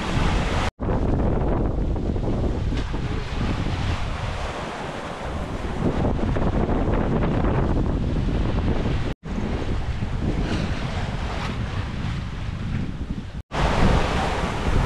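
Rough sea waves crash and wind buffets the microphone aboard a sailing yacht crossing from Gibraltar toward Tenerife, a continuous loud rush of surf and gusts broken by a few brief cutouts.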